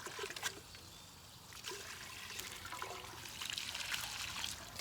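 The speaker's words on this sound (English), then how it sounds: "take it outside and fill it full of water and just rinse it out" Water trickling and sloshing while a big pot is rinsed out outdoors, uneven splashes and dribbles at moderate distance, with short bursts of pouring and no talk.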